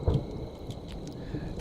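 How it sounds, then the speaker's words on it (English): A low thunder rumble in The Cursed Forest video game swells briefly at the start, then fades into a steady rain-like hiss that carries on alone. "It's a thundering."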